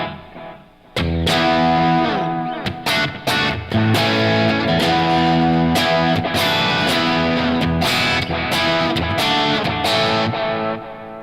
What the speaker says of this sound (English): this is the sound of a delay after overdrive